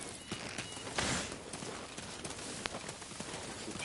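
Horse hooves galloping in Dynasty Warriors 9, a rapid run of clip-clop hoofbeats over outdoor ambience, with one louder thud early on and a sharp click later.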